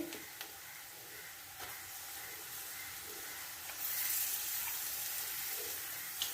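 Liver pieces frying in a pan with masala for a liver roast, giving a steady close sizzle and hiss that swells louder partway through, with faint stirring clicks and no talk.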